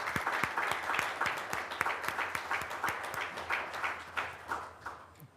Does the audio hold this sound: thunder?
no